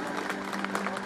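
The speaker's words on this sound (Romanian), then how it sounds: "Aplauze așadar." A brief burst of crowd applause at a local sports event honoring national judo champions, dense steady clapping with a faint voice underneath.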